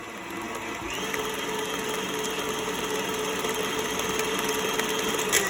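Electric mixer creaming butter with granulated and brown sugar for birthday cake batter, a steady motorized whir that runs continuously at moderate level with a faint rising whine, no speech over it.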